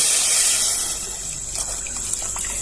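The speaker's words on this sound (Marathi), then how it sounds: "तीन तांबे असं मी इथं पाणी घालून घेतलं" Hot water pours steadily from a jug in a continuous gush close by, a rushing splash that eases slightly toward the end, with no voices.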